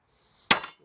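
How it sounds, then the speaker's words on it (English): A hammer strikes a chisel into wood while a flat door jamb is being built: one sharp, close crack with a brief ringing decay after a quiet lead-in. "Just take a little bit out so that the chisel doesn't drift when I hit it."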